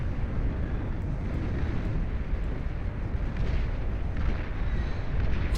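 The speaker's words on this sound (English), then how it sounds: "The wall of tactical missiles now out to try and blast out these commanders" Tactical missile barrages detonating in the strategy game Beyond All Reason: a dense, continuous roar of overlapping explosions and rumbling blasts, loud and steady throughout with no talking.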